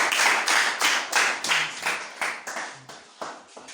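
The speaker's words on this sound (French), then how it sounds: "vous pouvez les manifester avec les applaudissements" A congregation claps in a series of distinct bursts, roughly two per second, each sharp and fairly close, the rhythm slowly loosening and fading slightly toward the end with no talk over it.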